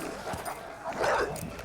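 Dogs mauling a man in a film scene: snarling, whimpering yips and growls pile up in a short, chaotic burst, with a louder surge of barking toward the middle.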